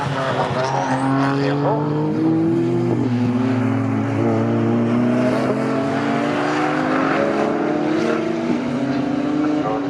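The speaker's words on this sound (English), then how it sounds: "Closes up once again, or rather is reeled in, I should say, by Anton Martin at Augie's and in turn through Williams' corner" Saloon race cars roar past at Snetterton circuit, engines droning loud and continuous with rising and falling pitch as they accelerate, while a commentator talks over the racing.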